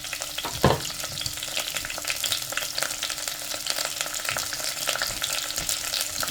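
Food fries with garlic, ginger, lemongrass and salt in a pan, sizzling steadily and close while a utensil stirs and scrapes through it, with one sharper knock near the start.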